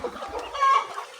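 Debeaked chickens on a poultry farm clucking and murmuring close by, with soft uneven clucks and one brief higher squawk over a low barn background.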